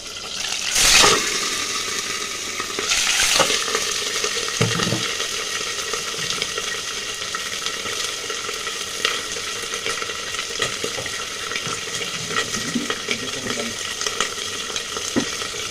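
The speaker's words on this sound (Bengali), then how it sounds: "মাছের মাথাটা আগে ভেজে নিচ্ছি" Fish heads frying in hot oil in a pan, a loud continuous crackling sizzle with a couple of sharp bursts early on, then settling into an even, steady frying hiss.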